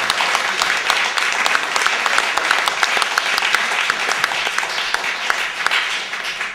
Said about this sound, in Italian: farei un applauso, spero